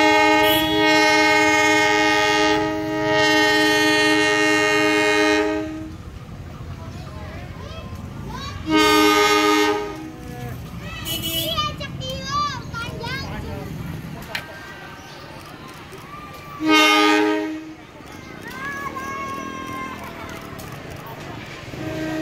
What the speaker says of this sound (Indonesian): inilah detik-detik kereta api menuju Garut